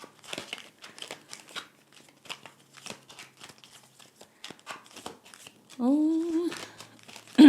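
Tarot cards are shuffled by hand in a run of quick, papery riffles and crinkly bursts, close and moderately loud, followed near the end by a brief voiced exclamation.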